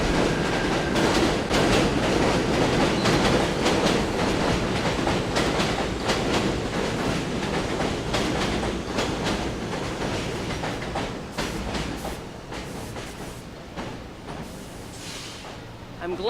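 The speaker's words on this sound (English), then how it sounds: "I'm glad to see the trains are running on schedule." Trains rolling along elevated rails in Bensonhurst, Brooklyn, a steady loud rumble with rhythmic clatter that gradually eases over the span, with a crowd murmuring faintly underneath.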